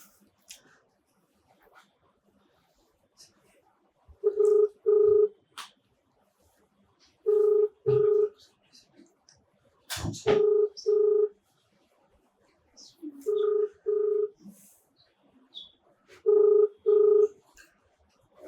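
An unanswered telephone call rings back in repeated double-pulse tones, five paired rings spaced a few seconds apart, clear and close over near-silence with faint background clicks.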